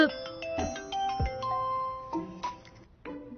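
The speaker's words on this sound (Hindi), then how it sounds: "ताओ का फोन है" A phone ringtone plays a bright, tinkling electronic melody of quick repeated notes, fairly quiet, with no one talking over it.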